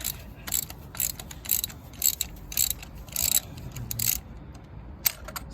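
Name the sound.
ratchet loosening spark plugs on a Hyundai i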